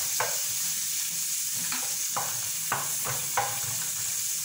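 Hot cooking oil spits and sizzles in a pan as food fries, a continuous bright hiss with several quick scraping stirs and pops spread across the moment, close and alone.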